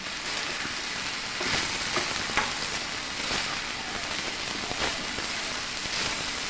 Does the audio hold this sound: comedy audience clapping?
no